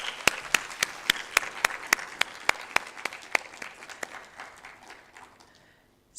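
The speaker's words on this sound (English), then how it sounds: "let's give them a round of applause" A small audience claps for the organizing team at a Rwanda–Sweden research cooperation event, a run of distinct hand claps that starts fairly loud and close, then thins and fades out over about six seconds.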